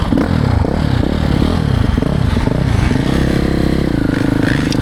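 A 2026 Ducati Desmo 450 MX motocross bike rides a private track, its engine loud and close with steady revving and throttle changes as it pulls through the run.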